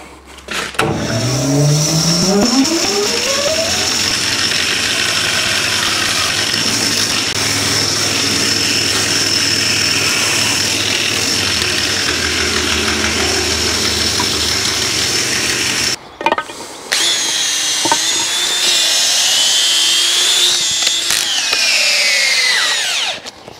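A loud band saw or chainsaw cutting wood runs continuously, its pitch rising as it spins up, then dips briefly and resumes with a shifting, straining whine.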